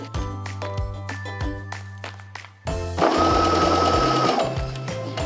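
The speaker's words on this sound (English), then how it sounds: "We top stitch the skirt's hem" A sewing machine top-stitches the folded hem of a skirt, a close, loud, steady mechanical whirr that swells into a denser run partway through, with no talking.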